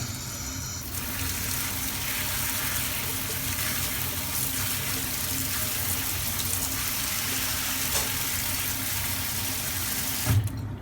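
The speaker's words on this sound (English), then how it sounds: "go ahead and pour some cold water so it can stop the cooking process" Cold tap water pours steadily into a sink over strained frozen peas, a continuous close hiss and splash that runs unbroken, ending in a brief clatter near the finish.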